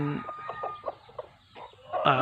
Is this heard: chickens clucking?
yes